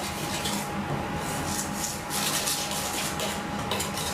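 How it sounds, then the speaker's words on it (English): Clafoutis batter is whisked in a bowl, a continuous rapid scraping and clinking of the whisk against the bowl, moderately loud and steady throughout. "we're just gonna whisk all this together"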